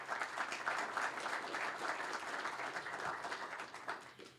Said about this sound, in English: So a nice warm round of applause